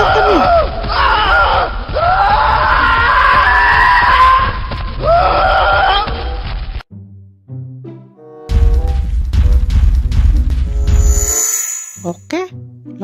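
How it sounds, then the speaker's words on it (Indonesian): A toy lets out a long, loud, shrill screaming wail that rises and falls for several seconds. It is followed by a burst of noisy electronic sound effects and brief tones. "sekarang kita coba dengarkan suara teriakannya"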